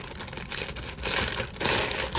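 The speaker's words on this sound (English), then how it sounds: "Let me stop making all this plastic noise." Plastic packaging around a kinky straight wig crinkles during an unboxing, loud close crackling in uneven bursts that grow busier toward the end, with no talking.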